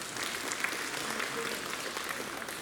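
Audience applause at a Women's Day celebration by a charitable trust, steady dense clapping from a crowd filling the whole stretch at moderate level, with no voices standing out.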